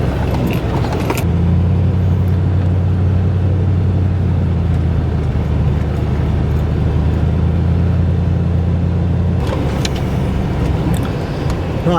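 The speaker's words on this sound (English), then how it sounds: "There was a vehicle coming this way, so I pulled off the road" A vehicle on a snowy rural road in deer-hunting country gives a steady, loud low engine rumble that holds for about eight seconds, then drops away abruptly, with no voices.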